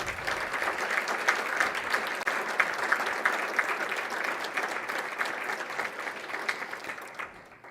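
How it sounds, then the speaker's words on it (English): Sustained audience applause at a scholarship gala celebrating 166 students, a dense, steady wash of clapping from a large crowd that holds for several seconds before tapering off at the end, with no talking over it. "one more round of applause"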